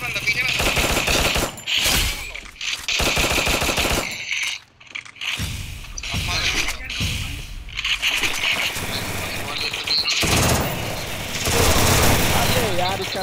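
Rapid bursts of gunfire, including shotgun blasts, ring out in a Free Fire video game match. Loud volleys are broken by short pauses, with a player speaking over the action.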